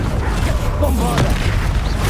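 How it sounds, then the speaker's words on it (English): A Bombarda blasting spell explodes in Hogwarts Legacy, a single booming burst about midway through, rising out of steady battle noise and rumble. "Bombarda!"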